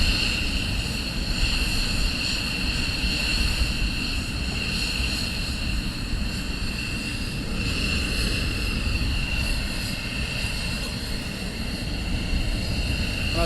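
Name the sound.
military aircraft taxiing at RAF Lakenheath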